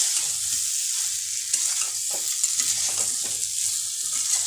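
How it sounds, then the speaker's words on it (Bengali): Fried eggs and potatoes stirred into a masala-free Bengali-style curry in a pan, a bright steady sizzle with a run of scraping, clattering stir strokes close up, no speech. "এবার এর মধ্যে আমি দিয়ে দেব ভেজে রাখা ডিম আর আলুগুলো। দিয়ে আমি ভালো করে আবারও মিশিয়ে নেব।"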